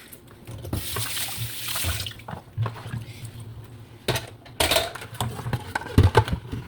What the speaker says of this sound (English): But now I'm using hot water. So just wash them away.